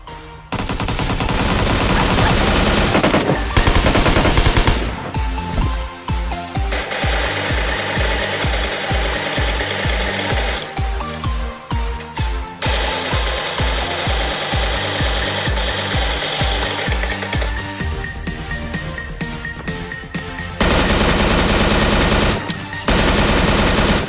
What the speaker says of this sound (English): an M16A4 or an SKS will fire as fast as you can tap it